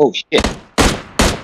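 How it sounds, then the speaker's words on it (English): Gunfire in PUBG Mobile, with a few loud, abrupt shots in quick succession, close and punchy, interrupted by a brief spoken exclamation. "I'm getting shot from 345."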